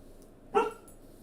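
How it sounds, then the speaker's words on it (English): A single short, fairly faint bark from a pet dog sounds once against a quiet room background. "Confirmation from my doggy."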